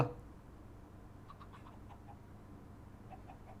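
Four chickens hatched from thrown eggs in Minecraft give soft, faint clucks in short scattered bursts over a low background hum.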